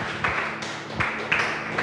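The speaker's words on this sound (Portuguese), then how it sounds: "As palmas exaltam ao Senhor." A church congregation claps together in worship, a dense broadband patter with a few sharper accented peaks, steady and fairly loud across the short moment with no voice over it.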